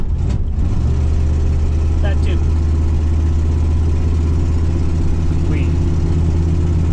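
A carbureted car engine with a pinky-sized hole in the intake manifold just under the carburetor runs with a heavy, loud, steady low rumble and rough idle, close by, while people speak briefly over it.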